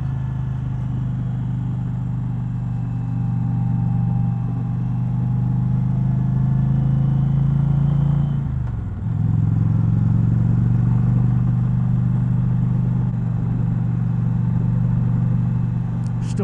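An Indian Challenger motorcycle cruises steadily with a loud, constant engine drone and wind rush, with a brief dip in the note partway through as it shifts or eases off before pulling on, no voices.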